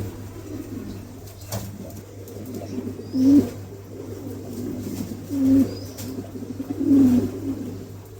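A pair of King pigeons, an Andalusian male and a checker female, coo in a few soft, rolling phrases spread over several seconds above a constant low hum.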